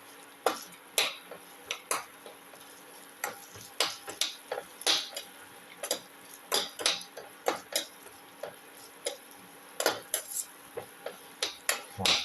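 Shallots and ginger sautéing for a beef casserole: a spatula clacks and scrapes against the pan in irregular bursts of sharp clicks over a faint, steady background hiss, close and fairly quiet, with no talking.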